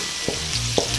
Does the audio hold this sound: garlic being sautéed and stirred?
yes